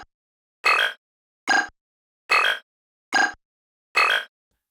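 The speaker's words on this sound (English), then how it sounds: "For example, these circuit-style sounds." Five short, punchy circuit-style hit effects resampled from a dubstep bass, each a bright glitchy burst spaced evenly with silence between.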